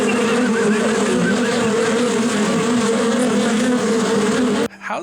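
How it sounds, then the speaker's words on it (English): Buzzing bees added as an effect during a tabletop role-playing game session, a dense, steady insect drone that fills the clip at close, loud level before cutting off abruptly near the end. "The bees just sound like Great. static."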